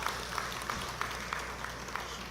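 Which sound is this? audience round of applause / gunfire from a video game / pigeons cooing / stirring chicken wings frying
audience round of applause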